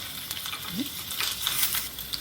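Curry leaves and asafoetida tempering sizzle and crackle steadily in hot oil at close range, a bright hiss with sharp pops scattered through it.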